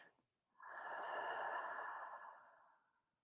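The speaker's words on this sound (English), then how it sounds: "Taking a deep breath in through the nose, and then exhaling to sigh it out of your mouth." A single deep breath, drawn softly through the nose and then released as a long, breathy sigh out of the mouth, close and quiet against near silence.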